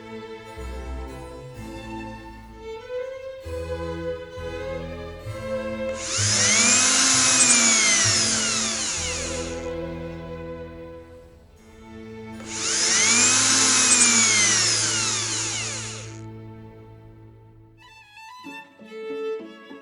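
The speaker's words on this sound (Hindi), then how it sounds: "आइए इसके कोनों को घिस दे" A power tool grinds the corners of an outdoor LTE antenna kit part in two loud, whining bursts of about three seconds each, set against steady music and with no talking.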